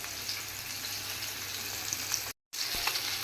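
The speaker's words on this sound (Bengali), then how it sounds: "মাছ ভাজাটা হয়ে গেছে আর বেশি ভাজবো না" Fish frying in hot oil in a home kitchen gives a steady, close sizzle that cuts out for a brief moment before resuming, with no voices.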